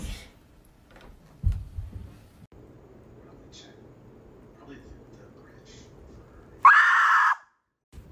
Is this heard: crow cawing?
no